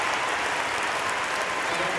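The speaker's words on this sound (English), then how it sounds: "Huge applause from the crowd." Crowd applause fills a Paralympic powerlifting final in the women's up to 45 kg class, a steady dense wash of clapping with no break across the short stretch, while a commentator's voice sits faintly within it.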